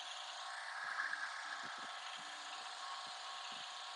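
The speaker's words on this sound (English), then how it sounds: "all I have to do is spray, use my drill brush, and then I'll be good to go." A power drill brush scrubs a car's interior during auto detailing, a steady broadband whir running throughout at moderate level, with short low knocks and bumps scattered under it.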